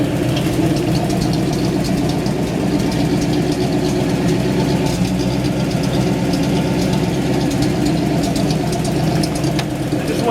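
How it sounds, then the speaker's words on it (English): A 1961 Corvette engine idles steadily and loudly for the whole stretch, a dense low rumble with a faint knocking tick layered over it, close by and without voices. "Let me just crank this car over for you real quick."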